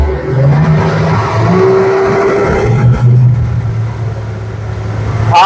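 LX9 boat engine accelerating on open water, a steady loud drone with rising pitch and rushing water and wind noise throughout, no talk.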